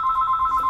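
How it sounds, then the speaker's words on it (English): A telephone rings in a woodworking workshop with a steady electronic tone that warbles rapidly. It is fairly loud and heard alone. "Sorry about that, the phone rang,"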